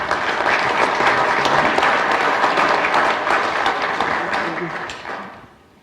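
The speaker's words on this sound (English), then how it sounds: "Let's give him a round of applause." A conference audience at a swine profitability event applauds steadily in a meeting room, dense clapping that holds for several seconds before fading out at the end.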